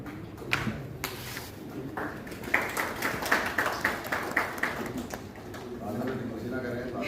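Scattered applause at a closing ceremony for an MBA-IT program, with a few separate claps at first, then a run of rhythmic audience clapping, while a voice speaks near the end.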